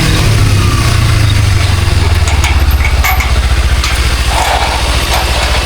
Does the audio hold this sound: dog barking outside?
no